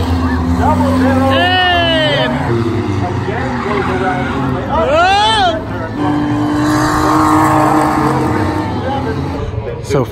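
Cars at a spectator drag race with a thrill show, engines revving and roaring loudly throughout, with rising pitch sweeps as cars accelerate, over crowd chatter.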